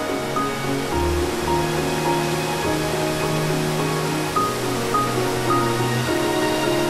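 A steady, rushing roar of falling water at Akame 48 Waterfalls, a forested gorge waterfall, fills the scene evenly and continuously at close range with no voices.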